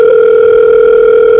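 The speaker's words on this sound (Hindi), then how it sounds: "बस फोन मिला दो" A telephone dial tone hums as a call is placed, one steady, loud, unbroken tone lasting about a second and a half with nothing else heard.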